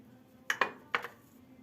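A metal fork tapping and pressing a pattern into soft tahini walnut dessert dough on a tray, three or four light clinks close by in a quiet kitchen.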